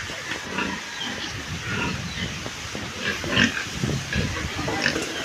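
A pig on a farm grunts in a steady run of short, rough snorts close by, with faint background hiss and no clear speech.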